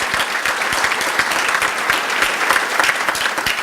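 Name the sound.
applause for staff and volunteers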